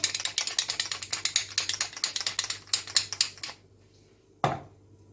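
A hand pepper mill grinds pepper into a pot of white wine court-bouillon for monkfish blanquette, a close rapid series of ratcheting clicks for several seconds, then a pause and one final clatter.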